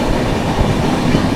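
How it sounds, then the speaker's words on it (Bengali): Lalgarh Superfast Express racing through Radhakund station, heard from on board as a loud, steady rumble of wheels and carriages with faint rhythmic clatter throughout. "আমাদের লালগড় সুপারফাস্ট এক্সপ্রেস এখন রাধাকুন্ড স্টেশন ডিপার্চার করছে"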